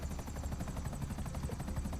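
A helicopter in GTA V Online gives a loud, steady rotor chop with dense rhythmic beating and a whining engine drone, heard up close with no talk over it.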